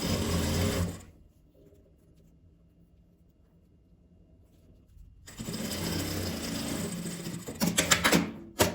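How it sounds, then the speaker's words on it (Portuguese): A sewing machine topstitches along the edge of a fabric multi-pocket toiletry bag, with a short burst of stitching, a quiet pause of several seconds, then a longer, steady run of close, even whirring. "Aqui eu vou passar um pesponto na beirada. Só mesmo pra fechar essa abertura aqui."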